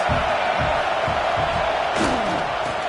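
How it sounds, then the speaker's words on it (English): Stadium crowd noise from the football video game Madden 23 roars continuously as a loud, dense wash of cheering, with rhythmic thumping beats and a brief swell near the end. "This crowd trying to make life miserable for this offense."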